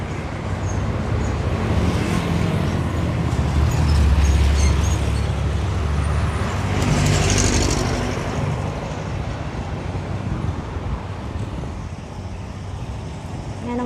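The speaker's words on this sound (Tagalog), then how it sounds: "Ang dami pa palang mga sasakyan dito." Road traffic in Iloilo City, with many vehicles and jeepneys passing close by in a steady, loud rumble that swells and fades as they go.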